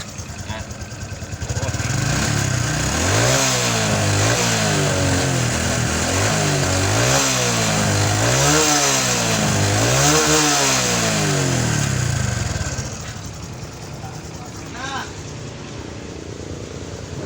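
Honda XRM 125 FI motorcycle engine running loudly nearby, revving up and down in repeated rising and falling swells before settling back to a steadier idle.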